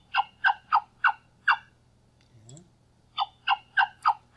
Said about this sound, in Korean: 암탉이 이런 소리를 내면 병아리들은 여기에 먹이가 있구나 해서 병아리들이 모일 수 있겠죠